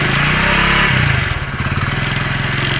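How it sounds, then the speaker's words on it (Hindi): A Hero HF Deluxe motorcycle engine idles just after starting, with a loud, close, steady chugging putter and a slight dip in the middle. "देखिए मैंने गाड़ी को स्टार्ट किया"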